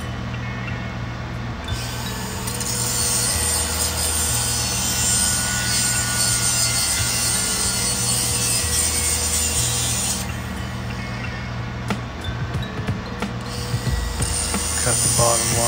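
A cut metal piece is deburred with steady scraping and rubbing strokes, a continuous close rasping texture with a few sharper clicks near the end.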